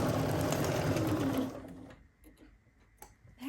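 A sewing machine stitches quilt flying geese units in a fast, close, even whir for about a second and a half, then stops, leaving quiet room sound with a few light clicks.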